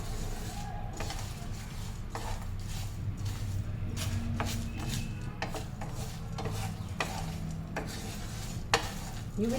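Homemade Goan biryani masala spices dry-roast in a pan, with a continuous close scraping and stirring rasp and faint crackling. Repeated spoon strokes sound over a low, steady rumble.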